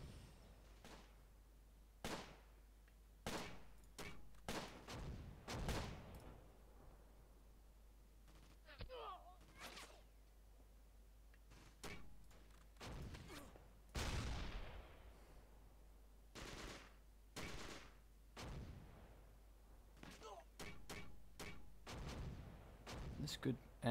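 Gunfire across an open field in the World War II strategy game Close Combat: Gateway to Caen comes as a string of sharp, separate shots and short bursts, some loud and some fainter, scattered irregularly over a quiet background.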